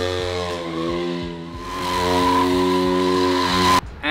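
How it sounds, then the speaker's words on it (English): A motorcycle does a stationary burnout, its engine revving hard while the rear tire spins and squeals against the pavement. The sound is loud and close and holds steady for about four seconds, then cuts off abruptly near the end. "And the basic burnout, it's actually the first step before you do the rolling burnouts."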